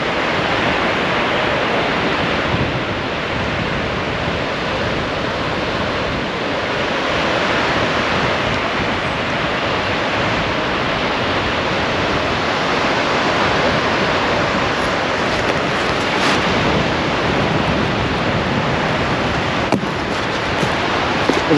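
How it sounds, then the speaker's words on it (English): Steady wind buffets the microphone on a seashore on the Holderness coast at Hornsea, a 10-15 mph breeze, making a loud, continuous rushing roar mixed with surf, with no voices. "There is about a 10-15 mile an hour breeze blowing."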